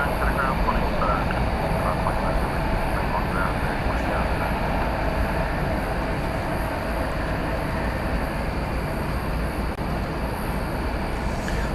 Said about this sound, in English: There's now an A300 backing out here. Flight 755 UPS.